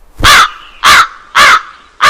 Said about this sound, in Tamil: நோவா முதலில் ஒரு காகத்தை விட்டார்